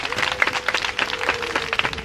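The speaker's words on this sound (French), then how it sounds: "Applaudissez-le, s'il vous plaît." Congregation applauding during a Catholic scouts' Mass celebrating Thinking Day, scattered claps over a steady low hum, with voices mixed in under the clapping.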